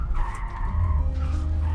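A brief, loud tire skid from a 2025 Audi RS3 hot hatch as it swings through a handbrake turn, with the engine audible beneath it.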